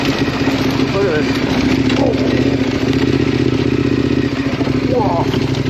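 A big adventure motorcycle climbs a rough trail in North Carolina, its engine a close, loud, continuous rumble with a busy ticking clatter, and a rider's voice comes through in short bursts over the engine.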